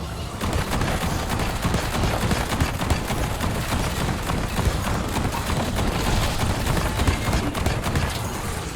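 The Olympia shotgun fires in Black Ops 6 Zombies at round 50, producing a dense, continuous barrage of gunfire and impact noise that fills the whole stretch, loud and close.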